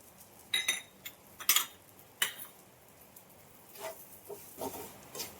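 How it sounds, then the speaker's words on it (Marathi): A spoon scraping and clinking against a pan while stirring semolina being roasted with cashew and almond pieces, soft irregular taps and scrapes at close range over a faint background hiss. "असं सारखं असं चमच्याने हलवत राहायचं ढवलत राहायचं"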